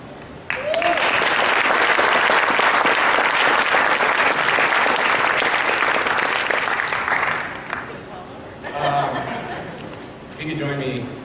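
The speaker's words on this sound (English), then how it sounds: "If you could join me for one more round of applause for Mike DeBoer for joining us here today." A gymnastics ring presentation audience claps loudly and steadily for several seconds before the applause fades, with some chuckling and crowd murmur near the end.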